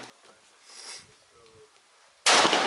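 A single rifle shot at an outdoor shooting range during a kids' outdoor sports camp, a sharp, loud crack that comes suddenly after quiet ambient noise and stays loud until the end.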